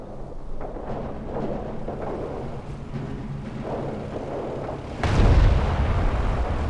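Artillery fire in the WWII strategy game Company of Heroes rumbles as a steady wash of distant booms, then a louder, heavier blast lands near the end and keeps rolling.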